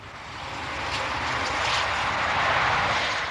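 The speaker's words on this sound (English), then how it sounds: "The world's fastest diesel express, the Intercity 125, the high-speed train." An Intercity 125 high-speed diesel express train rushes past, a broad roaring swell that builds steadily in loudness across the moment, with no voices.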